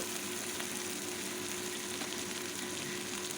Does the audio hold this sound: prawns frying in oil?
yes